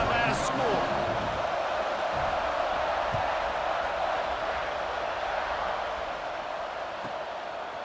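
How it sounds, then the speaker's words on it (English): A stadium crowd in the video game College Football 26 keeps up a steady, loud roar and murmur after a score, a continuous broadband swell with a few faint thuds. "this crowd is buzzing after that last score"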